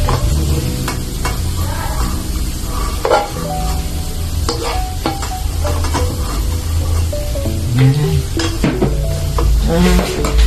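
Garlic fries in a hot pan for garlic buttered shrimp, a steady crackling sizzle with frequent clinks and scrapes of a utensil stirring against the pan.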